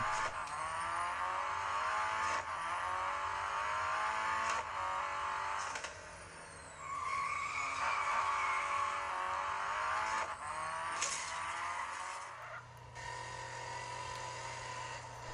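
A car engine hums and revs continuously in a mobile racing video game played with a gamepad, with shifting pitch, a few sharp clicks, and a brief drop near the end, steady and alone.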